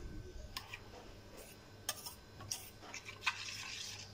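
A spoon stirring kulfi mixture in a bowl, light clinks and scrapes spaced irregularly over a quiet background hum, soft and close, with no talking.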